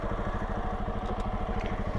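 A motorcycle engine idles in a steady, close-up low throb with an even pulsing rhythm throughout, after a group ride to a waterfall in Chitwan, with no voices.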